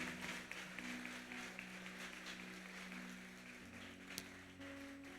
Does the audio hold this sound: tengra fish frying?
no